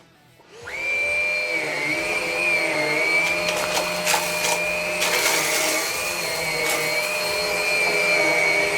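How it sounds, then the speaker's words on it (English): A Henry Quick bagged cordless stick vacuum switches on and runs with a steady, loud, high whine while picking up cereal from thick carpet, with scattered crackles as pieces are sucked in. "the most typical vacuum test ever, we got cereal on thick carpets"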